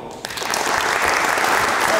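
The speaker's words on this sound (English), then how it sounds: "So please give a round of applause for David Hall." An audience applauds to welcome performer David Hall at a maths variety show in Oxford, the clapping swelling quickly from a quiet start into a dense, steady roar that holds to the end.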